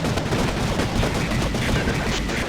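Rapid gunfire in Counter-Strike: Condition Zero, a dense continuous stream of shots that stays loud and steady throughout with no pauses.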